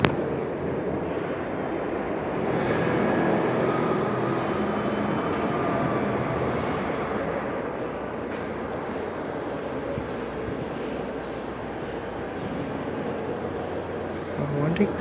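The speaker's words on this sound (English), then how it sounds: "We got a 168th Street bound train in a minute." New York City subway train rumbling at 163rd Street-Amsterdam Avenue station, a steady loud roar that carries through the whole stretch, with a voice speaking over it.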